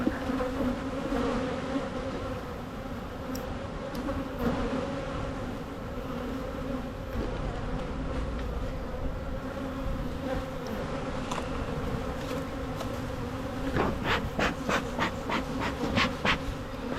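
Dense, steady buzzing of many honeybees inside the bottom box of a hive during an early spring inspection, a continuous close drone with no talk over it.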